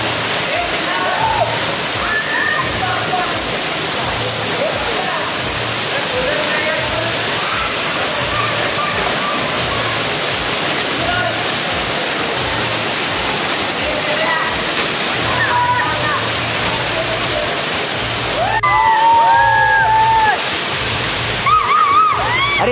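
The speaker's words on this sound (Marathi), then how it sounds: "आणि वरतून त्याच्या धबधबा पडते बरोबर." Water pouring from a dam's outflow as a waterfall at Tulashi dam, a steady loud roaring wash throughout, with people talking over it and a brief louder splash near the end.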